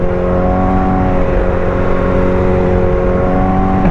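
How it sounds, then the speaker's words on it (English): A car is driven to warm up its tires, with a loud, steady engine drone and whirring hum heard close from inside the vehicle, with no rise or fall. "I'm gonna warm up my tires a little bit."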